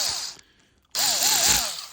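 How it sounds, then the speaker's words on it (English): A power drill drives a T8 screw into a Dyson V10 cordless vacuum in two close, loud whirring bursts separated by a brief pause. The second burst wavers in pitch as the screw tightens. "I'm just going to give it a little drill with a T8."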